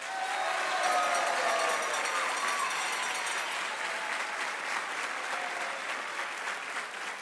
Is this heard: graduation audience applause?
yes